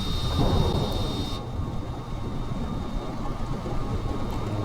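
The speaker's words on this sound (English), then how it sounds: "now we're flying through a storm" Thunderstorm in Kerbal Space Program, heard from inside an aircraft cockpit as it flies through the storm with rain striking the windshield: a steady, dense roar and rumble that continues without pause, louder at the start.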